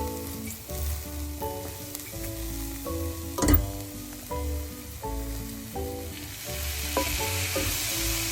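Long beans stir-frying in a pan, sizzling steadily while being stirred and mixed, with repeated scraping and tossing strokes over the continuous fry; close and fairly loud, no talking.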